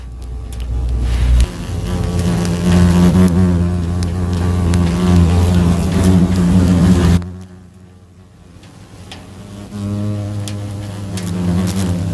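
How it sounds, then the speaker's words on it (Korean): Giant hornets buzzing around a small trap set over the ground beside a grave, a dense, steady droning hum close by that drops away briefly before returning. "자 이제 작은 트랩으로 장수말 벌들을 앉아서 편하게 잡겠습니다"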